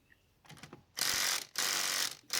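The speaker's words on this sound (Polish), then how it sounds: "Bierzemy impact. Siła działa punktowo, momentalnie i odkręca śrubę" An impact wrench works on a car wheel bolt: a few light mechanical clicks come first, then three loud, close bursts of rapid hammering whir, each cut off sharply.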